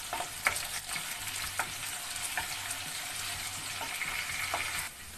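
Sliced onions and whole garam masala fry in hot oil for mutton keema aloo, a steady close sizzle with occasional spoon scrapes and taps throughout.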